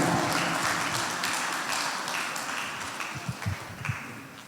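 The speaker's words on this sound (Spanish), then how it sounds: "Demos aplauso al Señor, hermanos." A church congregation at a Spanish-language service bursts into applause, dense clapping that is loudest at first and gradually thins and fades, with a few sharper claps near the end.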